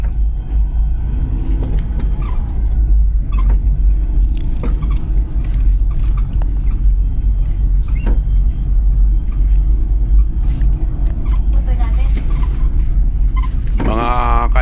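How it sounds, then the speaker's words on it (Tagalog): Steady road and traffic rumble from a highway ride toward a roundabout, a continuous low drone with passing vehicle noise throughout and brief talk near the end. "Nasa highway pa ako eh"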